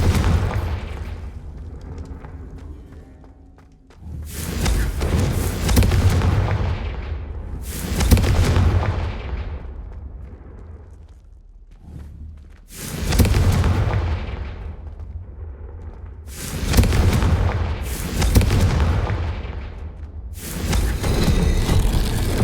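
Repeated deep explosive blasts from a Confringo fire spell in the video game Hogwarts Legacy, roughly seven booming bursts each trailing off in a rumbling decay, loud and close, with no talking.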